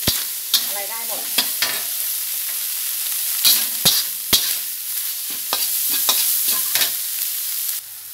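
Cooked minced fish is tossed in a pan, giving a soft sizzle broken by repeated sharp spatula knocks and scrapes at an uneven pace, with no talking.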